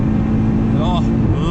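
A 2018 Audi RS3 Sportback engine droning steadily and loudly from inside the car on the Autobahn, with a person talking over it.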